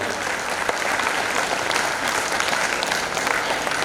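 An audience at a Hindi comedy poetry event claps to welcome an arriving guest, a dense, even wash of applause sustained from start to finish without talk.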